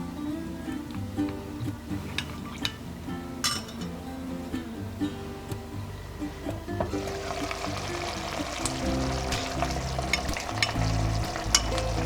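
Char siu pork filling stir-fried with cornstarch water: steady sizzling and stirring scrapes that grow louder and busier about halfway through, with background music running throughout.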